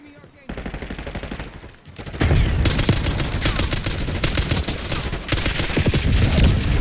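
Rapid automatic gunfire in Call of Duty: Black Ops 6, a quiet stretch first, then sustained loud bursts of shots with booming impacts that continue to the end.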